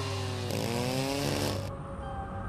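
A chainsaw cuts down a tree in the video game Weird Park, a steady loud engine drone with a harsher, higher whine as the blade bites in the middle before easing back.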